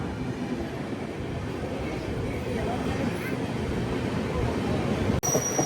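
Guntur Rayagada Express pulling out of Simhachalam station, a dense, loud, even low rumble of the moving train heard from on board, with a brief sharp click near the end.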